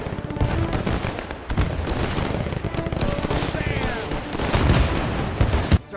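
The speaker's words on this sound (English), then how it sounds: "Can you hear that? Shooting." Dense battlefield gunfire in the World War II strategy game Men of War II, a steady mix of rifle and machine-gun bursts with a few heavier booms, close and continuous under ambient game noise and some voices.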